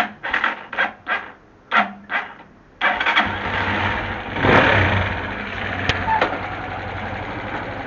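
A Kansas 200cc motorcycle cranks in several short, separate bursts, then catches and settles into a steady, loud running engine with a slight surge partway through.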